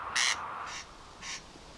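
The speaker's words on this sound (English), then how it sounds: "the corncrake." A corncrake calls from semi-natural machair grassland in the Hebrides, three harsh rasping bursts spaced unevenly over under two seconds, fairly faint against a soft breezy background.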